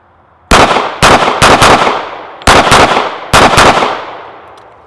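A Ruger 1911 pistol fires about seven sharp, loud shots close by, in uneven pairs and singles with echoing decay after each.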